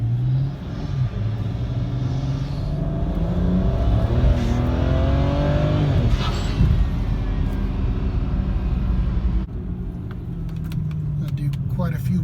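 A BMW E90 sedan pulling away and accelerating hard in sport mode, engine note rising through several climbs before dropping to a calmer cruise, loud and close from inside the car.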